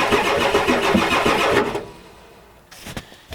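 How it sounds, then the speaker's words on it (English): A 1993 Ford F-250 with a 7.3L IDI diesel that has bad compression cranks loudly in a steady rhythmic churn for about a second and a half, then stops without catching, leaving quiet with a couple of faint clicks. "You guys can tell it's got bad compression because it should start on ether."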